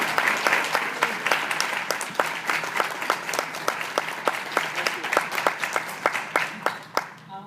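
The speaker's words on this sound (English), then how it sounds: "I want to make sure that I pause and that we give a round of applause to William Colon and Carmen Gómez Izquierdo." An audience at a Latino conference gives steady, moderately loud applause, with crisp overlapping claps for over seven seconds before tapering off.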